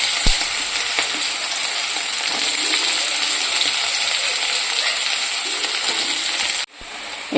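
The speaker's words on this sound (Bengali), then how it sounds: "এবার এই সবজিগুলো দিয়ে সবজিগুলোকে আগে ভালো করে ভেজে নেব।" Winter vegetables fry in a pan with kalonji, a bright, steady sizzle that holds loud and even throughout before cutting off abruptly near the end.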